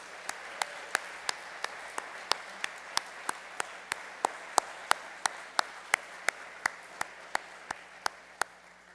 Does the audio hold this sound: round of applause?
yes